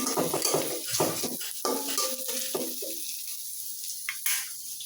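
Pieces of deboned fish go into a pan of fried onions, with metal clatter of a utensil against the pan and a brief sizzle that fades to quiet.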